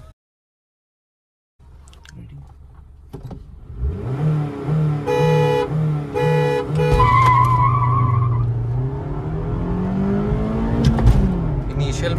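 Kia Seltos 1.5 CRDi automatic and Honda City 4th gen 1.5 i-VTEC manual launching in a drag race, engines rising from idle to hard revving acceleration with gear changes, loud and close, voices talking over it.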